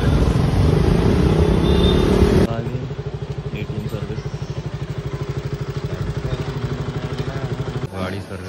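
KTM motorcycle starting up and idling before the ride to a service station: a loud rough burst gives way to a steady, rapid single-cylinder putter that runs on evenly, then briefly dips at the end.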